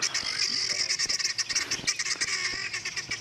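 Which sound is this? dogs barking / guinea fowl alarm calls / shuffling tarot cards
guinea fowl alarm calls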